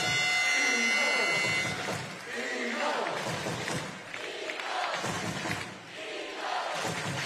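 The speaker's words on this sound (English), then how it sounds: "Not the usual big crowd in the Eagles room at night, but they're still making plenty noise" A basketball crowd cheers and roars at a Newcastle Eagles home game against RSW Liege Basket in the ENBLeague. The crowd noise is steady and loud throughout, with a commentator talking over it.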